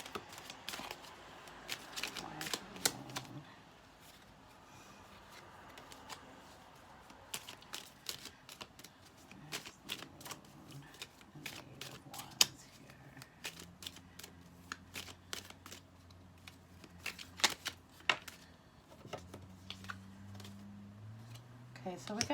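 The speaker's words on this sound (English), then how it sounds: "Your cards are flying all over the place." Tarot cards are shuffled in scattered bursts of crisp flicking and slapping, fairly soft and close, with a person talking intermittently over and between the shuffles.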